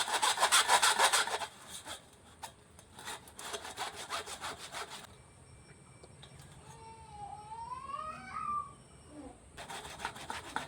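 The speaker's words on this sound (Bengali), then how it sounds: "এবার এটাকে আমি ঘষে ঘষে রসটাকে বার করে নেবো" Ripe mango pulp being rubbed through a kitchen strainer, giving a quick, rhythmic gritty scraping that is busy at first and then thins into softer intermittent rubs, with faint birdsong and tonal chirps in the background.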